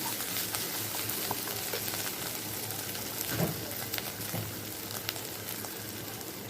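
Chili and turmeric spices stir-frying in a pan, a soft steady sizzle with occasional scrape and clink of the spoon, quiet and close with no talk.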